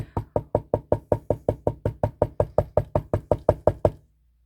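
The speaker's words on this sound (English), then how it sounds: "the vibration right there, that helps too if you just want to knock on it" About twenty even knocks strike a silicone mold filled with ceramic resin, tapped to release air bubbles, in a steady close rhythm that stops abruptly with no talk.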